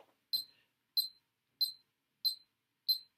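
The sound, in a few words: metronome beep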